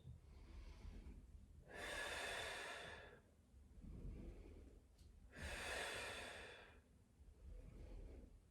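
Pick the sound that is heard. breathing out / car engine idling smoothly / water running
breathing out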